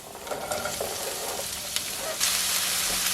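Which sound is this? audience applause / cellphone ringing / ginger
ginger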